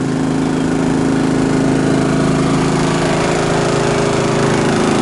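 A small Honda gasoline engine runs close by at a steady, loud, unchanging chug, with no voices over it.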